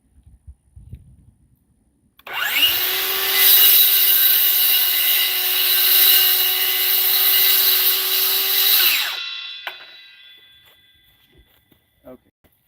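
A power blade trims a piece of wood during furniture building, running steadily for about seven seconds with a loud, continuous whine before cutting off, set between brief quiet handling noises.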